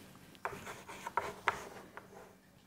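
A pen writes an answer on paper in a quiet room, leaving several soft scratching strokes and small taps spread across a few seconds.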